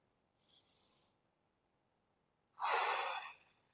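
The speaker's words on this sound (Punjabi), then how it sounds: "ਫੂਕ ਮਾਰ ਕੇ ਛੱਡਾਂਗੇ ਫਿਰ ਨੱਕ ਰਾਹੀਂ ਸਾਹ ਲਵਾਂਗੇ" Breathing exercise: a soft inhale drawn through the nose, a short pause, then a louder, longer breath blown out through the mouth, close and alone.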